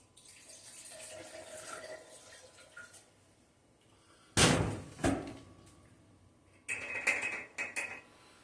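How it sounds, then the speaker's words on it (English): Water runs from a tap into a wash, a soft, fairly quiet stream at first, followed by a few loud, abrupt clunks and a burst of splashing. "And some more water in it."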